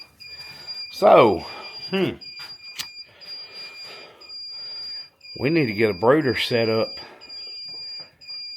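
Egg incubator alarm beeping in a steady high tone, sounding repeatedly in the background while a person talks nearby.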